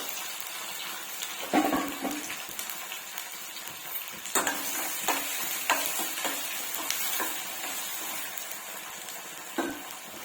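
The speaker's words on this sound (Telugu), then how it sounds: "ఇప్పుడు ఆయిల్ వేడెక్కింది కదా జీలకర్ర ఆవాలు ఇంకా పచ్చిమిర్చి" Cumin, mustard seeds and green chillies sizzle steadily in hot oil in a pan, a close, continuous frying hiss broken by occasional crackles and stirring clinks.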